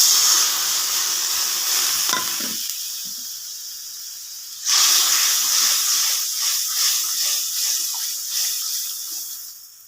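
Water used to wash spices is poured into frying mustard and ginger for a vegetarian dudh shukto, a loud sizzling hiss that eases, then surges again sharply and keeps bubbling and spitting close by.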